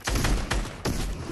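Gunfire from a Fortnite-style video game, a few loud shots in quick succession over a dense rumbling mix, with bursts at roughly half-second intervals.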